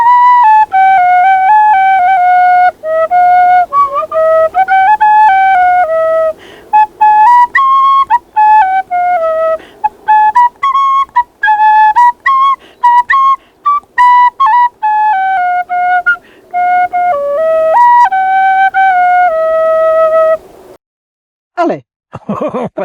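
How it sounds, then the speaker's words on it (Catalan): A wooden flute carved from elder wood plays a lively, high, clear melody of quick ornamented notes close up and loud, ending with a brief burst of other noise. "això és una flauta de fusta, no és de canya"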